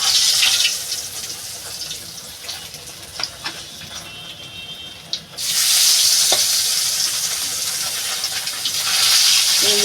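Rohu fish sizzles in hot oil in a pan, a bright, hissing fry that is loud throughout, with scattered clinks and scrapes and a fresh surge of sizzling about halfway through.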